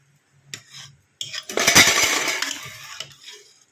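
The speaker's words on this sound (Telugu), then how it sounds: "మనం గంట పెట్టి తిప్పేసుకుందాం." Cooked toor dal with tomato mashed and stirred with a ladle in a pressure-cooker pot, a burst of metallic scraping and clinking that builds, peaks and then tapers off, with a few separate clinks before it.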